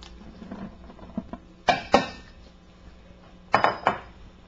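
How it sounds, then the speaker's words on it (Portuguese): Wheat flour going into a stand mixer bowl for Spanish bread dough: a couple of sharp clattering knocks and clinks against the bowl over a quiet kitchen background, with no talking. "vou colocar na batedeira a farinha de trigo"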